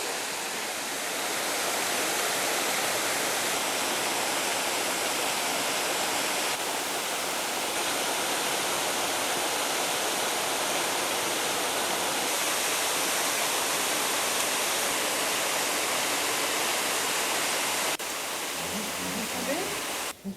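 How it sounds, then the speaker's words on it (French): A constant roar of rushing water, like a waterfall close by, continuing steadily for a long stretch with a brief quieter patch near the end. "c'est la cascade"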